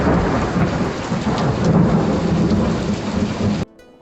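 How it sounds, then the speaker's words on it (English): A loud thunderstorm with heavy rain pouring down in a dense, continuous roar and rumbling thunder underneath. It cuts off abruptly near the end. "when it does, the rain's heavy and it's very spectacular."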